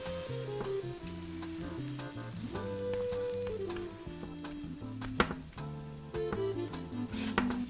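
A grilled cheese sandwich cooking in a pan gives a steady sizzle and frying crackle throughout, heard close, with music playing over it and a few knocks near the middle.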